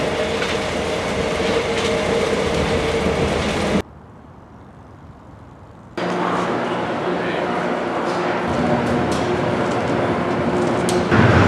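A passenger train rumbles along the rails in a loud, continuous roar with rattling car noise, dropping briefly to a muffled hush for a couple of seconds before the full clatter returns.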